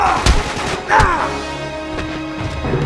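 Gunfire in the video game Uncharted 3: two sharp, loud shots about a second apart, each with a hard crack and a short decaying tail over low game ambience.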